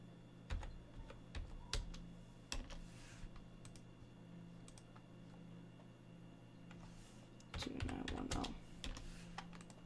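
Soft, sparse key taps as a code is entered on a keyboard device in the video game Bad Dream: Fever, scattered clicks over a low steady hum, with a denser cluster of presses toward the end.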